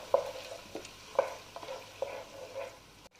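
Fish molly ingredients stirred in a pan, with a spatula scraping and tapping at intervals over a soft, steady sizzle, close and fairly quiet.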